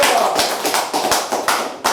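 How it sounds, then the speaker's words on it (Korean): Applause from an audience at a lecture on the Analects, close and fairly loud, with uneven bursts of clapping rising and falling across the moment. "오늘 박수는 더 특별히 힘차네요"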